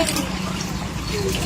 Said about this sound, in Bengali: জলটা একটু ঢেলে দিই